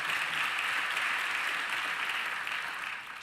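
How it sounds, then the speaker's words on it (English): A round of applause fills a Baptist church, a dense, even wash of many hands clapping that holds steady and then starts to fade near the end, with no voices heard. "let's give them a round of applause"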